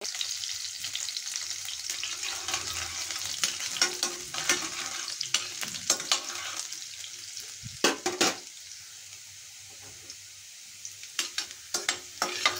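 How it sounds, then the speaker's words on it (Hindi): Cumin seeds and garlic fry in a pan for a saag tempering, giving a steady close sizzle broken by sharp crackles and pops, with occasional stirring clatter and quieter stretches between bursts. "साग दे विच थोड़ा जिहा आपां जीरा पावांगे, नाल ही आपां लसन आपां 1-2 मिनट भुनांगे।"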